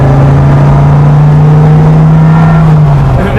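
A Dodge Viper engine drones loudly and steadily from the driver's seat, its deep exhaust note holding for about three seconds before easing off slightly at the end.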